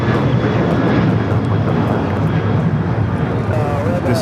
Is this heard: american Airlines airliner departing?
yes